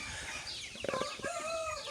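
Chickens and a large mixed-breed rooster on a small farm, with a short burst of clucking and crowing-like calls in the middle over a steady background of other poultry noise.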